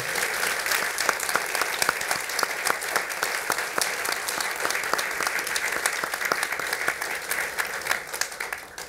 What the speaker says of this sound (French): Je pense qu'ils méritent vraiment une belle main d'applaudissements.